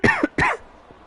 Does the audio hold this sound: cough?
yes